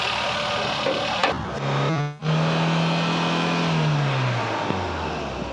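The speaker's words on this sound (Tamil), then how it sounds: "இப்போ பார்த்தீங்கன்னா இந்த வண்டியோட என்ஜின் கண்டிஷன் எப்படி இருக்குன்னு இப்போ நம்ம ஸ்டார்ட் பண்ணி காமிச்சிட்டோம்." A 2006 petrol car idles with a steady drone, cuts out briefly, then restarts with a quick burst of cranking pulses and settles back into a loud, even idle with a slight rise and fall in engine pitch.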